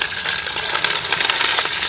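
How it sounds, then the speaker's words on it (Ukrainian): Steady, loud sizzling of portioned beef ribs frying in hot oil, a continuous crackling hiss with small pops throughout. "беремо реберця говяжі, розділені вже порційно і обсмажуємо."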